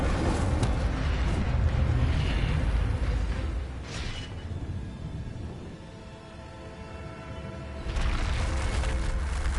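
A fire spell, Incendio, cast in Hogwarts Legacy, bursts out as a whooshing, roaring eruption that swells, fades through a rumbling tail, then flares up again near the end, loud and close, with no voices.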